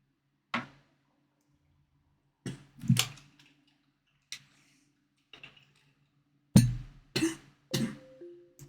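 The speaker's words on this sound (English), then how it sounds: "Sorry for the sick noises. Coughing and all that." Scattered, hoarse coughs from a sick person, heard up close in quiet surroundings, arriving in isolated bursts and short clusters with silence between them.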